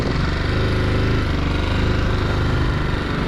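A motorcycle ridden along a forest road on the route from Jim Corbett Tiger Reserve to Rajaji Tiger Reserve, its engine a loud, steady, close drone that holds without a break.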